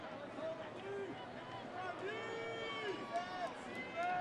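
Crowd noise at a Midland High homecoming football game against Saginaw High, a steady roar of fans urging the defense on fourth down, with scattered shouts and whistles rising over the din.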